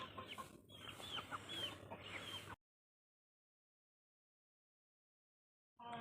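Three roosters and eight hens cluck and squawk loudly for a couple of seconds, then silence follows before the clucking briefly resumes at the end.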